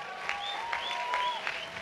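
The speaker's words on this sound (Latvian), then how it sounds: "Ok, aplausi!" Short, fairly soft applause at a political roast comedy event, with scattered claps running beneath whistling or sliding tonal sounds.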